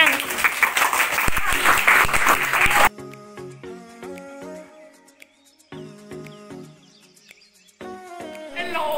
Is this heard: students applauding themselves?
yes